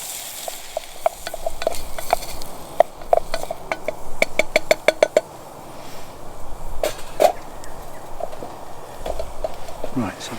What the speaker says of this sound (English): I'm now just frying off the onions in some butter